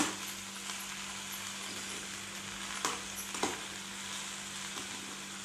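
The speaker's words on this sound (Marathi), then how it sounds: "आणि एकदम हळूवार त्याने व्यवस्थित परतून घ्यायचं आपल्याला" Broccoli with salt is stir-fried gently in a pan, giving a soft, steady sizzle with a few light stirring scrapes, and no talk is heard.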